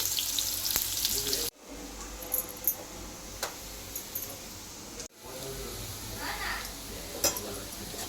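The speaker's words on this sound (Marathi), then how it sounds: "माझ्या आईने बघा इथे कांदा टाकला आहे कांदा आणि जिरे" Onion and cumin fry in a pan at home, a continuous moderate sizzle broken by brief utensil clinks and a short pause, with occasional faint background voices.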